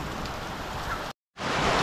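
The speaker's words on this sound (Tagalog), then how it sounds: "Ayan mga karutman, napakalakas po talaga ng ulan." Dense, steady downpour of heavy rain, loud and continuous, broken by a brief moment of silence before the roar resumes.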